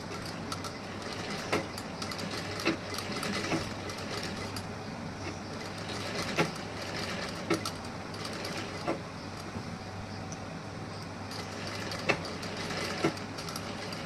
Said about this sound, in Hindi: अब यहाँ पे मैं एक सिलाई लगाऊंगी किनारे से ऐसे।